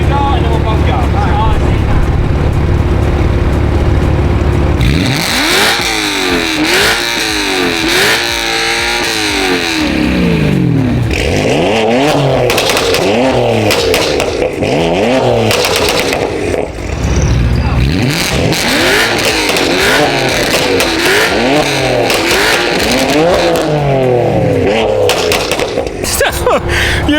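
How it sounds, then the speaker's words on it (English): BMW S65 V8 and S55 straight-six engines fitted with full straight-pipe exhausts, revved one after the other: loud, raspy, repeated rising and falling revs close by, with a steady idle drone between the throttle blips. "let's go ahead and compare the S65 full straight pipe to the S55 full straight pipe"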